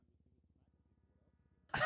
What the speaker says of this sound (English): I'm coughing. The food went down the wrong pipe.